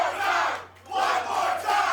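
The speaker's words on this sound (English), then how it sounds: "And you hear this crowd." A wrestling video game crowd roars in two loud swelling waves of cheering and chanting, dipping briefly between them, over a low steady hum.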